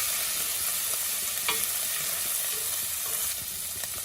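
Dried shrimp fry in a pan for a curry with sem beans, a steady, close sizzle running throughout, broken by an occasional scrape as they are stirred, with no voices.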